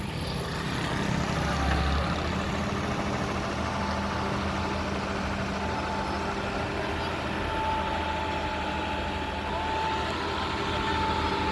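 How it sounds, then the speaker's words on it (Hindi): Wheeled excavator reversing on its tyres at a Karachi BRT Green Line roadworks site, a steady loud engine drone with a faint repeating reverse-warning tone running through the whole stretch. "अब इसे टायर थोड़ा सा रिवर्स लिए और ये जो एक्सकेवेटर का जो इसका ऊपर का जो हिस्सा है"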